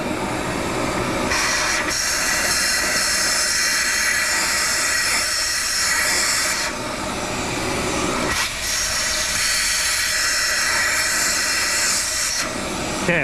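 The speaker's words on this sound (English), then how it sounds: "I'm just going to blast it and blast it and blast it." Crushed walnut shell media blasted at high pressure through a recycling blasting machine onto carbon-coated direct-injection intake valves: loud hissing bursts lasting several seconds each, separated by short pauses.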